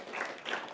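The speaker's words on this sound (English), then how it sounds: "One clap, we all clap." A church congregation at Revival Life Church claps together in a short, dense burst of hands that swells twice within under a second, fairly close and filling the room.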